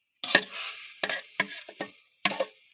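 A spoon scrapes through a thick semolina and egg halwa mixture in a pan in five short, close strokes separated by brief pauses.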